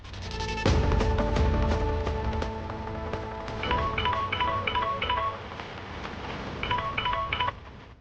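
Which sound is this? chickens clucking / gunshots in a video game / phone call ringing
phone call ringing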